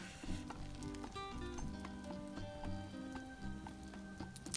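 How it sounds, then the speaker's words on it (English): Bread for a pie iron pizza sizzles in butter, a soft, steady crackle and hiss with light popping, close by and without voices. "I buttered them generously and then put them inside out"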